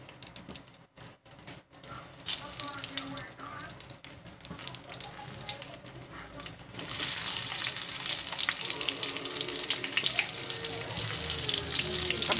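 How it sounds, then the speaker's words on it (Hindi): Stuffed pointed gourd (parwal) frying in oil in a kadai: quieter kitchen clatter first, then the sizzle swells into a loud, steady hiss over the second half. "चलिए इसे अब फ्राई करते हैं।"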